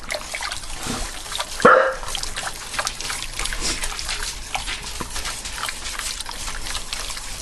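In a home kitchen where a beef stroganoff-style dish simmers, a dog gives a short, loud alert bark that stands out once above the soft bubbling and trickling background.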